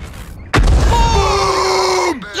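A tank cannon fires in the video game World of Tanks: one loud, sudden boom that rolls on in a long, droning rumble with a ringing tone for over a second, then cuts off.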